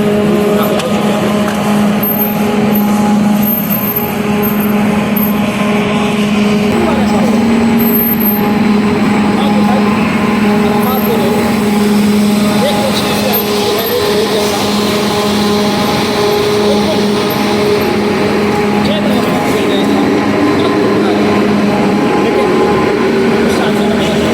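A vehicle rolls into a tunnel on the road during Hajj, a loud steady drone of engine and tyre noise filling the enclosed space without pause.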